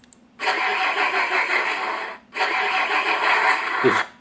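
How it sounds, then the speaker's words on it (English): Simulated semi-truck engine cold start from a Beier SFR-1 sound controller in a Tamiya model truck: two steady synthetic engine runs separated by a brief gap, loud and close, with no talking. "now you can see that my cold start sound"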